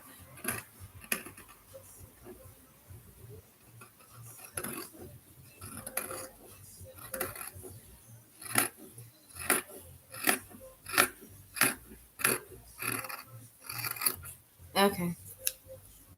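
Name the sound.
scissors cutting dress fabric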